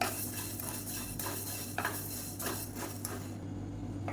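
Coriander seeds dry-roasting in a hot pan for kara podi spice powder, stirred with a metal utensil that gives steady scraping and light clinks, with a faint low hum underneath and no talking.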